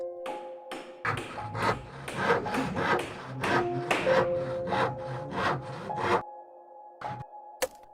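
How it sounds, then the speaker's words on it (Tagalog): Steady wooden scraping and carving strokes on a church spiral staircase, close and rhythmic, with creaks and a few sharp knocks, fading to a faint hum near the end. "naririnig lamang ang tunog ng kahoy at ang mga mahihinang pag-ukit"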